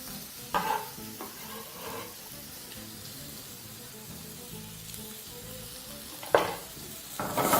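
Onions and pureed garlic fry gently in a pan for a spaghetti bolognese, a soft steady sizzle broken by a few sharper stirring scrapes and clatters near the start and end.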